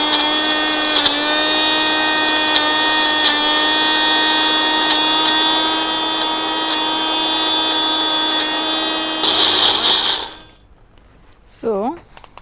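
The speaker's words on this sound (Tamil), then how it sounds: "இதை இப்படி ஸ்மூத்தாக அரைச்சிக்கோங்க" Mixer grinder blending orange and pineapple pieces into a smooth mix, a loud steady motor whine running about ten seconds, then cutting off and winding down.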